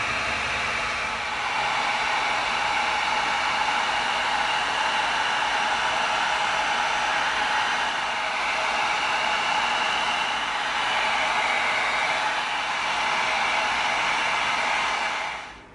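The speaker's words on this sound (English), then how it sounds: "we're going to get our heat gun out. And we are going to tighten this foam up." Heat gun blowing steadily on EVA foam to tighten and smooth its surface, a loud continuous airy roar like a hair dryer that holds for about fifteen seconds before cutting off at the end.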